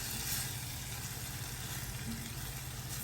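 Diced tomatoes sizzling in a pan for chicken cacciatore, a steady close hiss of frying with a faint low hum beneath, no distinct strokes of stirring standing out.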